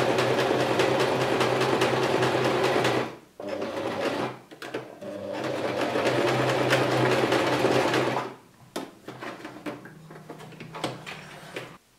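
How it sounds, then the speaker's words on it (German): Sewing machine stitching fabric for a diaper bag, a loud close whirring motor run in long steady bursts separated by brief pauses and small clicks. "Um jetzt diese Taschen zu bilden, werden wir jetzt in der Mitte einmal nähen."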